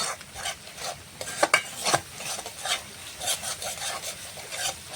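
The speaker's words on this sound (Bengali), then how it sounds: "দইটা দিয়ে নাড়তে থাকতে হবে, দইটা কেটে যাবে।" Spoon stirring whisked sour yogurt into a frying spice paste in a kadai for a katla fish curry with cashew paste, a steady scraping rasp with soft sizzle and a few sharper clinks, close and fairly quiet, no talk.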